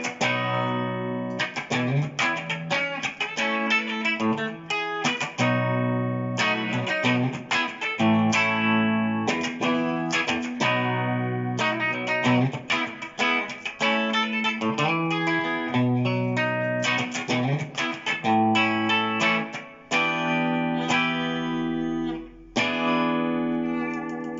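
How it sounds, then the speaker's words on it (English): Squier Classic Vibe 60s Jazzmaster electric guitar on its bright, thin treble lead pickup, played loud and continuously with quick picked lines and chords that ring out alone for the whole stretch. "I'll just turn it on to treble, so lead, so it's a lot thinner, it's more biting"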